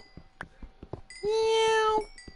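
Pet cat Lulu lets out one drawn-out, loud meow lasting nearly a second, preceded by soft scattered taps and thumps close by in a quiet room.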